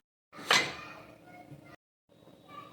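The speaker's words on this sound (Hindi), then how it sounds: "कुकर का ढक्कन लगा देंगे।" A pressure cooker lid being fitted onto the pot holding taro root: a sharp metallic clack with a short ringing tail, followed after a pause by a fainter scrape and clink, close and fairly quiet.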